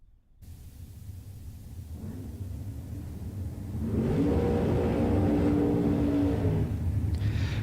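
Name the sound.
dragster race cars at a drag strip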